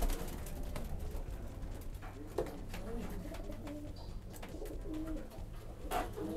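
Pigeons coo softly and repeatedly in a quiet pigeon loft compartment, with a few scattered clicks and rustles around them.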